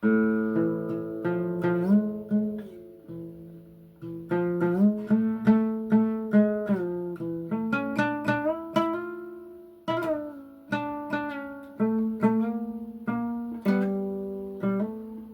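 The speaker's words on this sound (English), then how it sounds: "It's not going to look the best, but the sound, you know, you get that oud sound." A fretless classical guitar with a gliding, oud-like tone plays a melodic phrase of sliding plucked notes, close and solo.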